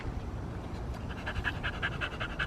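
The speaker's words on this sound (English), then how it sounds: "The dog keeps barking, as you can see" A dog pants rapidly and close by, quick rhythmic breaths that grow more distinct toward the end.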